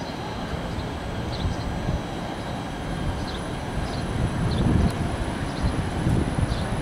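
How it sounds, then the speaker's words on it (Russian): A tram rolls along a street in Riga, a low rumbling drone of wheels on rails that swells slightly as it passes, with faint high squeals over the steady outdoor noise. "По этой улице ходит трамвай."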